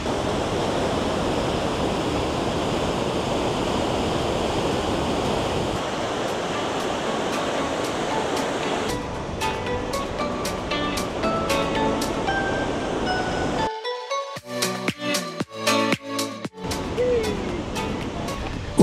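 The Great Falls waterfall, seen from an overlook beside the C&O towpath, gives a steady, loud, broadband roar of rushing water for about nine seconds. The roar then becomes patchier and other nearby sounds break in.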